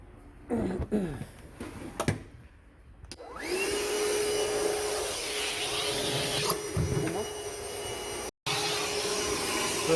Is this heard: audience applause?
no